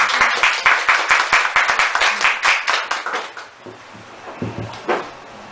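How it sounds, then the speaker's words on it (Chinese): An audience at an indoor author talk claps in a brisk, rapid patter of sharp close hand strikes, which thins and tapers away after a few seconds, leaving scattered claps and faint talk. "那我们来个掌声"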